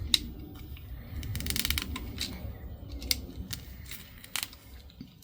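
Scissors cut foam for refoaming the air conditioning on a 1994 Jaguar XJS V12 facelift, giving a series of close, crisp snips and rustles in short irregular bursts.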